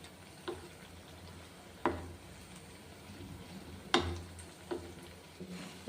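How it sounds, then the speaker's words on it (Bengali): Food frying in a pan of oil while malai sweets are made, a low faint sizzle broken by occasional clinks and taps as the pieces are turned over, no talking. "এই দেখো এটা ভাজা হতে থাক, ভাজা হচ্ছে, এই যে উল্টে উল্টে দিই।"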